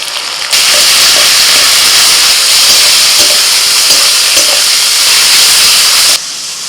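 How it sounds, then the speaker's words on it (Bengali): Loud, steady sizzling hiss of green chilli, ginger and garlic paste frying in a hot pan, starting abruptly and continuing evenly for several seconds with faint stirring. "কাঁচা লঙ্কা আদা রসুন বাটাটা দিয়ে দিচ্ছি"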